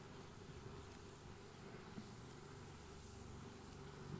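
A backyard swarm of honeybees fills a hive box with a dense, steady buzz that holds at an even level from start to finish, close and unbroken, with no voices over it.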